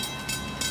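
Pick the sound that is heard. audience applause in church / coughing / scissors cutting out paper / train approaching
train approaching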